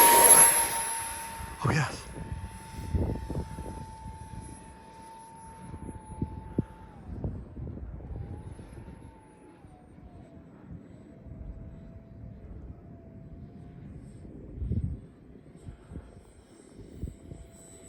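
A small model of a WWII concept jet, hand-launched into the wind, gives a steady whine that fades and drops in pitch as it flies off, with wind buffeting the microphone and a few brief spoken words.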